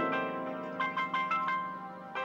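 A phone ringtone plays a short electronic melody of rhythmic repeated notes, close and clear.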